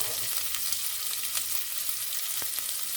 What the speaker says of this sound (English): So now I'm going to go ahead and drop in my sausage.